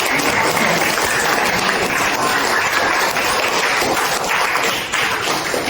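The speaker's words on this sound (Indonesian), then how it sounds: "Tepuk tangan dulu." Classroom applause from a group of students, dense continuous clapping that stays loud and even from start to finish with no talk over it.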